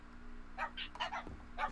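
A dog in a video game gives a few short, quiet barks and yips in quick succession over a faint steady background hum.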